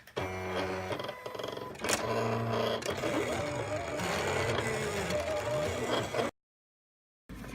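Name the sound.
Silhouette Cameo cutting machine cutting cotton fabric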